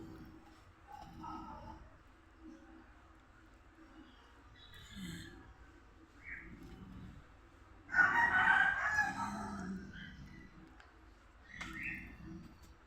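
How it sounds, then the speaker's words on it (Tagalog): Chickens cluck and call intermittently, then a rooster crows loudly partway through, with faint voices murmuring in the background. "Ayan yung mga manok."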